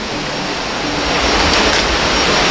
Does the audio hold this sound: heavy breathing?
no